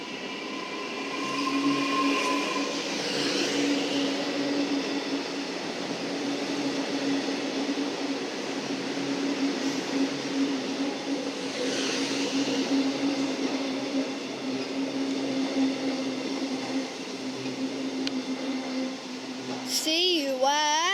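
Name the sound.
Metro train passing through North Melbourne station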